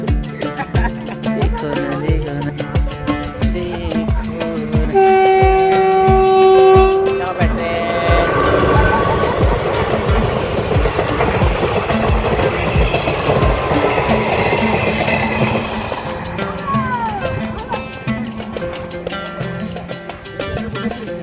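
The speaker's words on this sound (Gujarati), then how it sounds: "ટ્રેન આવે છે" A train approaches and rolls past beside the track, sounding a loud steady horn blast early on, then a long rumbling, clattering run of wheels and cars that fades slowly as it passes.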